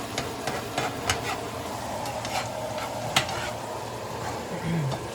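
Meat for empanada filling frying in a pan while a metal spatula scrapes and taps against the pan, sharp scratchy strokes over a constant sizzle, with a voice briefly heard near the end.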